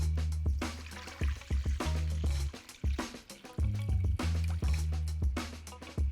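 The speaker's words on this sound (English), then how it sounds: "Now we're gonna cover him with water." Water pours over a pomegranate in a bowl, a close, uneven gush of splashing and gurgling in repeated bursts with brief pauses.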